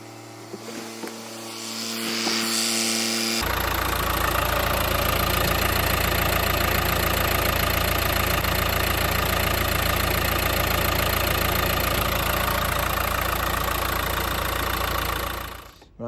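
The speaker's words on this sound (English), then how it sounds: "we'll just leave it running for 10 minutes just to get the engine warmed up" A Mercedes A-Class 1.5 CDI diesel engine starts and settles into a steady, rumbling idle that continues evenly for a long stretch before cutting off.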